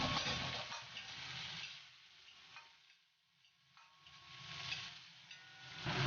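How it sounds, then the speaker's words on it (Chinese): Ginger, garlic, shallots and small chili peppers sizzle and get stirred in hot oil in a wok. The frying hiss is loud and steady, easing off briefly in the middle and then swelling again, with no talk. "下姜蒜片，爆出香味儿，投入葱头和小米辣，继续爆香"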